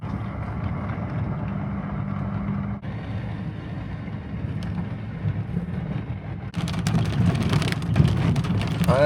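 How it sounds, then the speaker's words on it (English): Steady patter of ice pellets drumming on a car roof over a low engine hum, growing louder and denser toward the end, on a road in Utah. "It started raining pretty good before we got to the pictographs. Oh, it's some kind of ice pellets"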